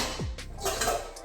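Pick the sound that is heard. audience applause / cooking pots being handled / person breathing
cooking pots being handled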